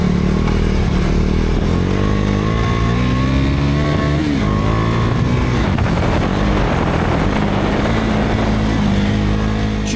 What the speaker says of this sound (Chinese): 就很作死的开始把转速拉起来，接着一路换挡给它换上去